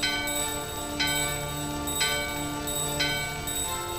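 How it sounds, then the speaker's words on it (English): A bell rings in steady, evenly spaced strikes about once a second, each with a long sustained shimmering tone, in the Final Fantasy IX video game, loud and alone with no talk. "The bell in your hand and the doorbell are ringing."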